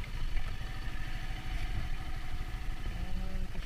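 A motorcycle engine idles close by after a fall, its low, uneven chugging pulse running steadily throughout with light mechanical clatter and no talking.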